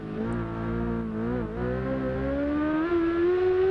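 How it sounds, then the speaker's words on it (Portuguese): Suzuki GSX-R1000 racing-version motorcycle engine roars loud and close, its steady high-revving drone climbing gradually in pitch throughout. "essa Suzuki, essa GSX-R1000 aí, ó o ronco,"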